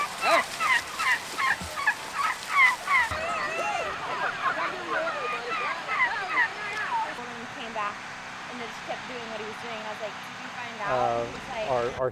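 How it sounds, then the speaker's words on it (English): A gang of turkeys gobbles repeatedly in rapid warbling bursts, loud and close, while children move them between pens at a Farm Day turkey drive, with people talking and background crowd murmur mixed in. "children gathered to move a gang of turkeys from one pen to another"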